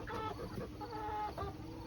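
A broody hen on a farm clucks and grumbles softly in a steady low stream of fowl sounds, fairly faint against a quiet background.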